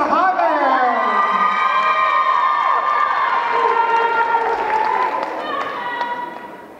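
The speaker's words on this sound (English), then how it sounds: "A big round of applause for Lisa Hammond!" A pole competition crowd cheers and applauds for champion Lisa Hammond, loud shouts and whoops over clapping that stay strong, then fade away near the end.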